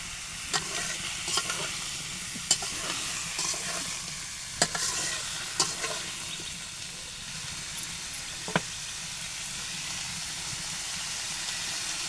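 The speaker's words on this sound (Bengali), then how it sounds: "এটা ভাজবো এখন আলু, এই যে আলুটা" Potatoes frying in a pan, a quiet steady sizzle with occasional sharp clinks and scrapes as the pieces are turned.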